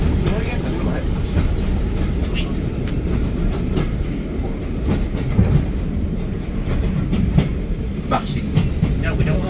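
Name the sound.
diesel-hauled heritage train running on the East Lancashire Railway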